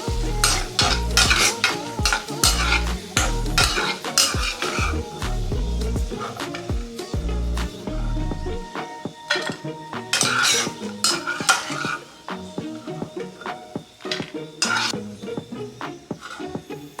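A spoon stirs and scrapes food roasting in a pan for sweet pumpkin halwa. Steady sizzling runs throughout, with rhythmic metallic knocks and clinks against the pan, close and loud.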